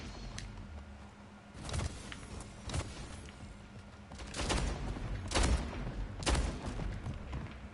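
Submachine gun bursts in the arena shooter Splitgate crackle in short, sharp volleys spaced a second or so apart, moderately loud over a steady game ambience.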